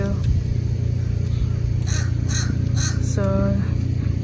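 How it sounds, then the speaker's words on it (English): Crows caw repeatedly by a lake as they are fed, several harsh calls in bursts over steady background rumble with a voice talking throughout. "We give them food. They are a very good bird."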